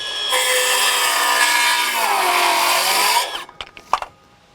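A Milwaukee M12 Fuel Gen II 5-3/8" cordless circular saw whines loudly cutting through a knot in wood, pitch dipping as it bogs down, then stops, followed by a few knocks and clatters.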